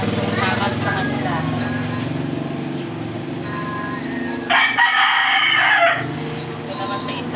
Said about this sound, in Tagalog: Magpapakain ako guys ng manok